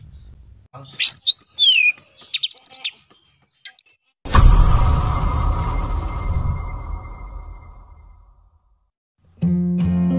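An oriental magpie-robin (kacer) gives a few bright chirping phrases, followed by a loud rushing burst of noise that fades out, then a short tonal sound at the end.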